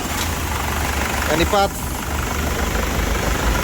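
A Nissan Frontier 2WD with a YD25 diesel engine idles with a steady low rumble and vibration, close up, while someone talks briefly over it.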